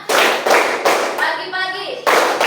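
A classroom of children claps together in a rhythmic clapping game, sharp group claps landing in a regular beat, with children's voices chanting between and over the claps.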